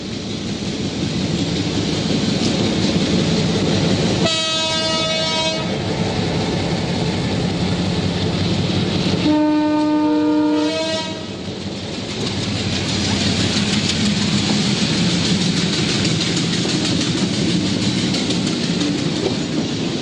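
A special train hauled by a locomotive engine rumbles loudly and continuously along the track in Sri Lanka, with rhythmic wheel clatter. Two sustained horn blasts sound in the middle of the pass.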